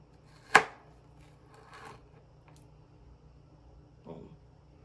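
Onions being chopped on a board for a seafood sauce: one sharp, close knife thud followed by a few softer scattered cuts and taps, with quiet gaps between them.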